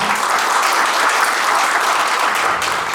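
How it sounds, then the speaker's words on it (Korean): Dense, steady applause from a crowd at a fan cafe founding ceremony, a continuous wash of clapping at even loudness throughout. "박수 한번 주시기 바랍니다"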